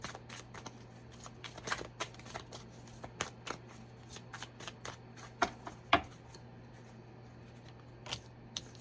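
Tarot cards being shuffled at close range: a run of soft, crisp riffling snaps and flicks at an irregular pace over a steady low hum, with no talking.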